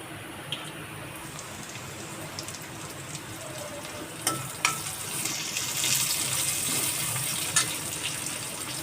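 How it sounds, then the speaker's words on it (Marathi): Green chillies spit and crackle in hot oil for paneer chilli, a soft steady sizzle with a few sharp pops and a brief louder burst of spitting, close by with no talking. "पण थोडं तेलामध्ये परतून घेते. आता त्यामध्ये टाकते मिरची."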